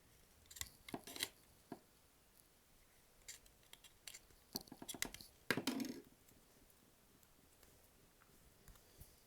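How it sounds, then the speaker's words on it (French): Scissors snipping excess double-sided tape while fletching arrows with Spider Vanes, several short crisp cuts in quiet bursts with pauses between, close and soft. "vous allez couper le scotch qui dépasse"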